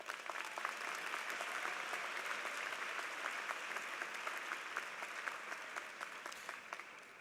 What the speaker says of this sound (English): Please give Hannah a round of applause.